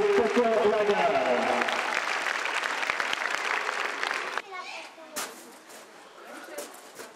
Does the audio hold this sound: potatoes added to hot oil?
no